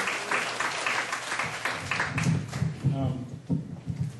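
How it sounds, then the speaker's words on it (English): Applause from an awards ceremony audience, a steady wash of clapping that gradually thins, with voices murmuring underneath. "let's give her a round of applause"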